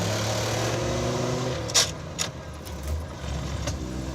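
An off-road AMC Pacer with an NP435 transmission being driven, its engine a steady low rumble with a few brief rattles and knocks as it rolls along.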